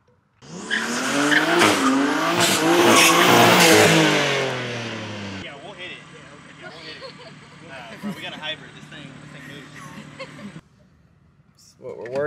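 A car rigged with camera gear for a wheel shoot revs hard with squealing tires, loud and close for several seconds, then settles into a quieter, steady engine drone before a brief burst at the end.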